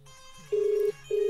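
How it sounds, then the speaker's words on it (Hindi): A forwarded call rings through on a second phone: two steady electronic ring tones, the first long and the second starting near the end, clear and close with no talking. "दूसरी कॉल आ गई है दूसरे फ़ोन पर"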